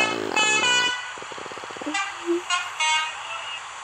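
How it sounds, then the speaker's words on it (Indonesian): A big bus on the road sounds its horn, with loud blaring horn tones near the start followed by short toots and engine noise, with a voice chiming in briefly. "Hati-hati, ada bus gede."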